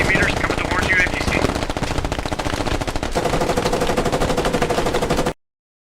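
Rapid automatic gunfire in the military shooter game Squad keeps up a dense, loud rattle for about five seconds and then cuts off abruptly.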